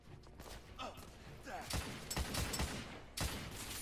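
Gunfire in the Victorian-era shooter The Order: 1886, ending with a headshot, comes as a burst of loud, close shots and thuds, with a final sharp report near the end.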